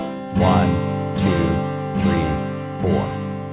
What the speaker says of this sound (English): So a really simplified way to do that would be to do just down strums